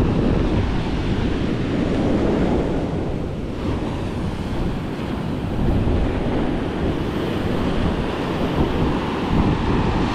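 Big ocean waves roar and wash continuously at the seashore, a loud, dense surf broken up by gusting wind against the microphone, with no voices.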